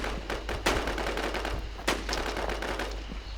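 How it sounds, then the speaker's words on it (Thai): Rapid bursts of video game gunfire crackle continuously, automatic weapon fire with a couple of louder shots standing out, no talking. "ได้ยินเสียงปืนแล้ว"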